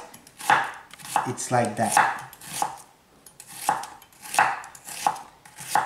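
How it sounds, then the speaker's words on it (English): A knife slices an onion finely on a board in steady, evenly spaced strokes, each a crisp close cut, with a brief spoken remark partway through. "you're gonna slice this onion very finely"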